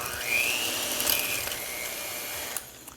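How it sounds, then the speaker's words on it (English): A handheld electric mixer creams butter and sugar for a gingerbread spice cake, a steady close whirring motor hum with a high whine that holds for about two and a half seconds, then drops off. "I'm just using a hand mixer because super easy"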